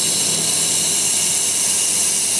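A handheld fiber laser welder runs steadily with a constant loud hiss and whine, the material held at a 45-degree angle, a continuous unbroken tone with no talk.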